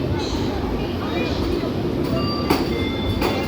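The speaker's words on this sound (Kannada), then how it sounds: "ಟ್ರೈನ್ ಬರುತ್ತೆ, ಒತ್ತಣ ಹೋಗ್ತಾನೆ ಅವನತ್ಲೆಗೆ ರೈಲ್ವೆ ಟ್ರ್ಯಾಕ್ ಮೇಲೆ" The Jan Shatabdi passenger train rumbles along the railway track on the Bangalore to Mysore run, a steady, loud rolling roar with occasional sharp clanks and metallic squeals, voices faintly mixed in.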